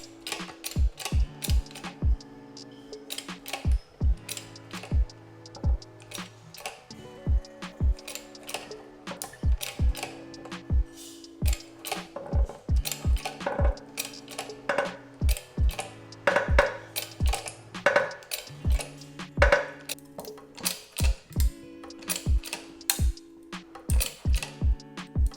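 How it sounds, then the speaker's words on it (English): A new wheel bearing being pressed into a Suzuki Jimny hub through a ground-down collar on the outer race, heard as a long run of sharp metallic clicks and ratcheting knocks over steady mechanical tones, with no talking. "Alright, so there we have it, the new wheel bearing pressed in."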